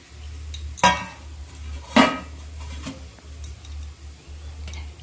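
A metal lid comes off a pan of steaming momos with two sharp clanks about a second apart, then a faint third tap, over a low steady hum in a quiet kitchen.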